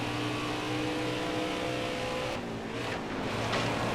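A race car engine in the NASCAR Heat 4 video game roars steadily at high revs, then dips and surges briefly as the car works through a corner, loud and continuous with no talk.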